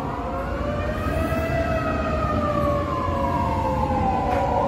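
A fire truck siren wails continuously, its pitch sliding downward as it passes by on the way to a fire in Fairview, heard over steady traffic rumble.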